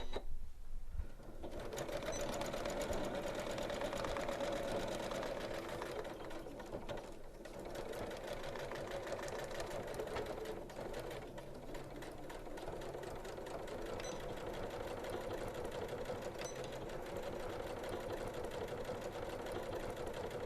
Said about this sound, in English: This blue line that we have here is going to be what we stitch right onto with a straight stitch at the machine